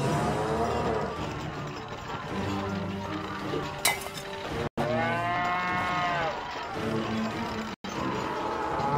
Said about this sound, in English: My three Nazi cow minions will take care of you.